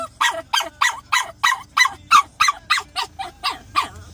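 A dog barks repeatedly at a vet clinic, about a dozen loud, evenly spaced barks in a steady rhythm, close by, with no talking over them.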